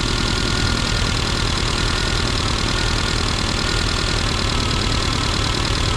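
A freshly tuned classic Mini Cooper RSP engine runs at a steady idle, close and loud, with an even, continuous rhythmic throb and no voices.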